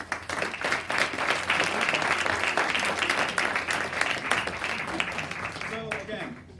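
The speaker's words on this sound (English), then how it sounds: "I want to give you guys a round of applause." At the Schey Talks 2019 event, a crowd bursts into full, loud applause that swells, holds, then tapers off, with a faint voice emerging at the end.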